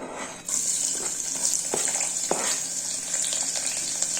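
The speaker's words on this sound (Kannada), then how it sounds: "ಇವಾಗ ಈರುಳ್ಳಿ ಹಾಕ್ತಾಯಿದ್ದೀನಿ ಒಗ್ಗರಣೆಗೆ" Chopped onions drop into hot oil for a tempering while cooking vegetable pulao: after a brief quiet moment a loud sizzle bursts in and holds as a steady hiss, with a few clinks of stirring nearby and no talking.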